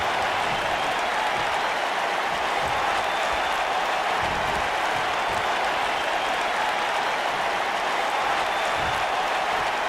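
Arena crowd in a WWE 2K19 steel cage wrestling match video game, a steady dense roar of cheering and applause-like noise that holds evenly for the whole stretch with no talk over it.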